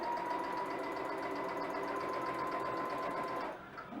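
A sewing machine stitches fabric in a steady, close hum of rapid needle strokes that runs for several seconds and then stops abruptly.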